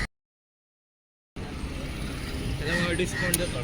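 A crowded auto rickshaw pulls away in the street, its engine noise rising steadily and staying close after a brief silence, with traffic and voices mixed in around it.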